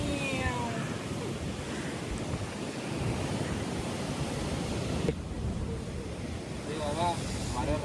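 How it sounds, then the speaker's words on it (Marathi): Strong wind blows on the Guhagar seashore, buffeting the microphone in a constant loud rumble over the wash of surf, with a faint high whine passing at times. "वारा भरपूर आहे"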